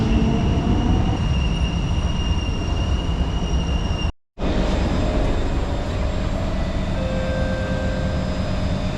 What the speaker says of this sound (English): I just got off the SMRT metro